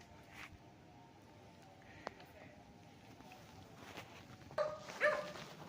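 A dog barks faintly a couple of times near the end, somewhat distant, on a roadside farm lot in Nagcarlan, Laguna, over a low outdoor background.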